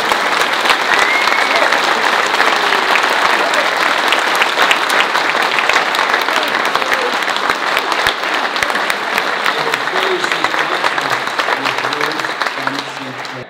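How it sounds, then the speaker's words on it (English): Friars on a chapter floor applaud and cheer after a resolution passes, a dense, loud, sustained crowd clapping that holds steady throughout and tapers slightly at the very end. "Yes, applaud if you want."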